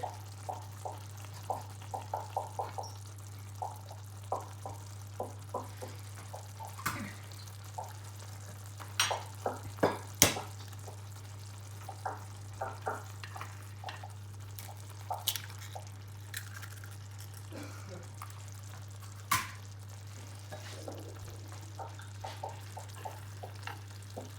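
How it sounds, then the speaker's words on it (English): Eggs cracked into a frying pan for a Moroccan dish, spitting and crackling in scattered small pops over a steady low hum, with sharper louder cracks now and then. "And just crack the eggs and stick them in"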